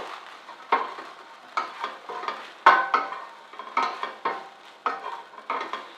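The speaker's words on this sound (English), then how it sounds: "stir right away, don't let your pasta stick to the bottom" Pasta being stirred in olive oil in a pot over medium heat, giving a run of scraping, sloshing strokes at an irregular rhythm, with a soft sizzle underneath and one sharper clack partway through.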